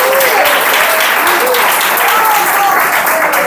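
A church congregation at a family worship service applauds, a dense, loud and steady roar of clapping with a voice audible above it.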